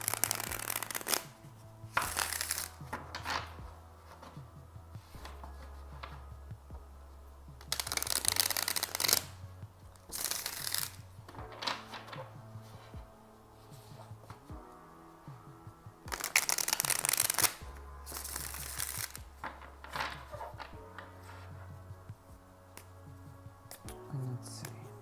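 Tarot cards shuffled in bursts of quick riffling and soft slapping, with quieter pauses between, close up under a steady low musical background.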